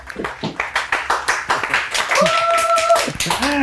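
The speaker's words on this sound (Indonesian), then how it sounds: "Tepuk tangan semuanya." A studio audience claps for guests being introduced on a comedy talk show, rhythmic individual claps at first that thicken into fuller applause, with voices briefly heard near the end.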